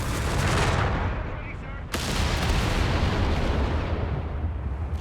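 Artillery fire in the real-time strategy game Company of Heroes 3 on the L'Aquila map, heard as a dense, continuous rumble of distant shelling and gunfire, broken by one sharp, heavy impact midway, with a voice talking over it.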